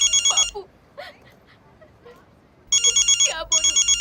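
Outgoing phone call ringback, with bursts of repeated electronic ringing near the start, then a quiet pause with brief faint speech, then the ringing returns in two more bursts.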